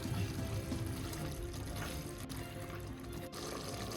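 Water is poured into a pot of cooking mutton for biryani, a steady splashing gush that carries on for several seconds before easing.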